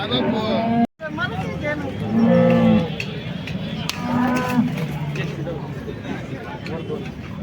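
Cows moo loudly, a couple of long low calls, amid the steady hubbub of a busy crowd talking nearby at the Modnimb cattle market.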